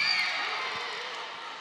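Crowd cheering at a professional women's volleyball match, a broad steady roar of many voices with a few whoops, loud and sustained, easing slightly toward the end.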